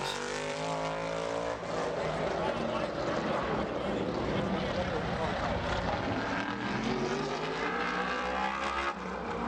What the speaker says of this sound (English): There in that number 77 car, the backup for Lee Jeffries